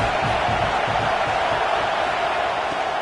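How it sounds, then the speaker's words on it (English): A football stadium crowd roars in a steady, dense wash of cheering and noise, continuous and loud with no pauses, sounding large and somewhat distant. "This crowd bringing the energy and noise early."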